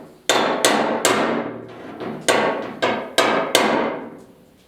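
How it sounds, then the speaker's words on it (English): Hammer striking a chisel on the driver's door bodywork of a 1972 Ford 4x4 truck, about seven sharp metallic blows in uneven rhythm, each ringing briefly, close and loud. "Gotta pound that one down just a little bit more. So what I'll do, just use my chisel here."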